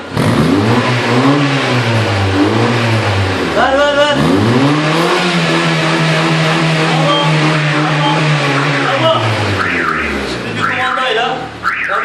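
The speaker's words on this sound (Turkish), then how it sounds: "arkadaş gaz verecek. Gaz ver!" A car engine revs loudly several times through a valved exhaust muffler, rising and falling in pitch with a throaty exhaust roar, while people talk and shout nearby.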